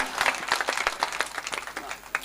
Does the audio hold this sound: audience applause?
yes